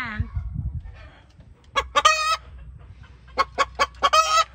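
A chicken nesting in a bag clucks in short bursts, two quick clucks, then a string of four or five close, loud clucks after a quiet pause, with faint low rustling underneath.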